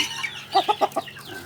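Black Indonesian-type chicken from a Chiang Rai breeder gives four short, quick clucks in a row, close by, with quiet background noise around them.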